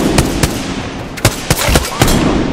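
Frag grenade blasts and gunfire in the Apex Legends battle royale game: sharp, loud cracks and booms in quick, uneven bursts over a steady game background hum.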